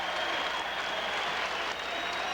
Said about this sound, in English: The crowd sensing the big upset.